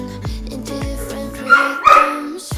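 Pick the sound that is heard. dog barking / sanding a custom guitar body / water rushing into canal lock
dog barking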